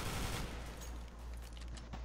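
Rapid gunfire rattles through a CS:GO match at moderate volume, a dense stream of shots with no pauses across the whole stretch and no talk over it.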